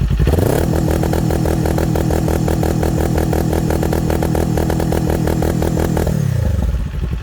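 A Kawasaki Z400 or Ninja 400 class motorcycle engine is held at full throttle against a 2-step launch control limiter, making loud, rapid, stuttering pops and crackles at a fixed rev ceiling, then dropping back to idle.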